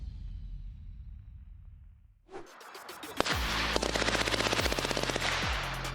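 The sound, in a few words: Sig XM250 machine gun firing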